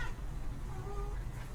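A pet kitty cat gives a faint, brief meow or two indoors, low in level against a steady background hum, with no talking.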